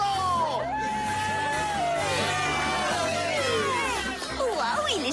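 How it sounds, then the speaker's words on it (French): A crowd whoops, yells and cheers for Trixie the flying poodle in a cartoon show, a dense, loud wall of shouts over steady background music throughout. "Faites un tonnerre d'applaudissements pour le grand Trixie,"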